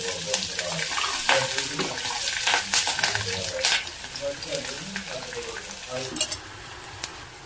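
Chopped onions, ginger pieces, green chillies and curry leaves fry in a pan with a moderate crackling sizzle, joined by scraping stirring strokes and some watery splashing sounds close by.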